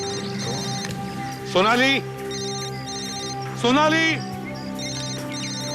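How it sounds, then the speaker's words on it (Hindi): A mobile phone ringtone chirping in repeated electronic trills over a steady ringing tone in a crime drama scene, while two voices call out a name between the rings. "मोबाइल फोन भी वहीं से बज रहा है।"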